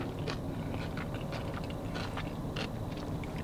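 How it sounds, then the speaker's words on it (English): Crunchy pork skin sisig is bitten and chewed close up, giving a run of sharp, crackly crunches in an uneven rhythm over a steady background hiss. "can hear that crunch. Crunchy pork skin, almost like a lechon kawali"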